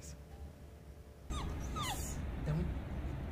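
Dog whimpering and yipping during sit and down obedience training, several thin, rising high-pitched whines after a quiet start, close by over a steady background hum.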